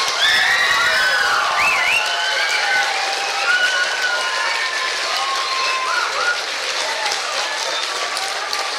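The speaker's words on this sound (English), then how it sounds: "will we give our teachers and assistants a round of applause then?" A school hall audience of children and adults applauds teachers and assistants after a mini musical, sustained loud clapping mixed with cheering and children's shouts throughout.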